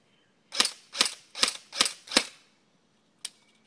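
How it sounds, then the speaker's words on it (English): A G&G GR-15 Raider XL airsoft rifle fires five sharp, evenly spaced shots with snappy slide blowback clacks, close and loud in a quiet setting, followed after a pause by one softer click. "The first thing I want to go over before we start shooting is the blowback. Watch the slide."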